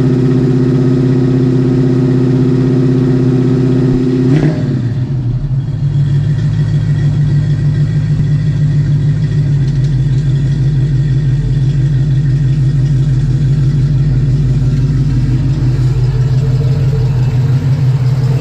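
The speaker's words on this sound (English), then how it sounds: "We're going to talk about my 1966 Ford Mustang, but I think we need to start it up" A 1966 Ford Mustang engine cranks and catches around the four-second mark, then settles into a loud, steady, close idle with a rumbling low throb that holds for the rest of the stretch, with no talking.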